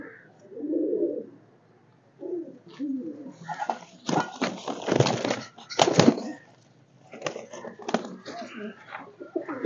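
Pigeons at a breeder's loft: repeated soft, throaty coos and rustling bursts from nearby birds, coming in uneven clusters with short quiet gaps.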